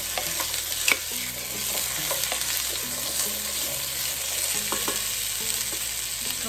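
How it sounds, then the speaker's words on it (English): Potatoes frying in hot oil for a potato and bean chowder, stirred with repeated scraping strokes over a continuous close sizzle, with no voices. "We're gonna go in with our potatoes. Give them a good stir."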